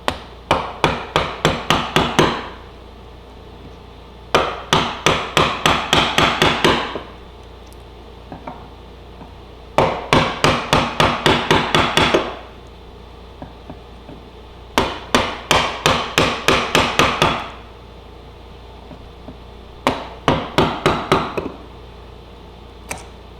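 A hammer strikes a chisel in repeated quick bursts of six to eight sharp knocks, with short pauses between bursts, as wood is chipped out to shape a new handle for a La-Z-Boy easy chair. The blows are close and loud.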